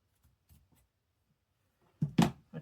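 Scissors trim fabric on a no-sew journal, a few faint soft snips followed by a louder, close cutting burst near the end, with no voices.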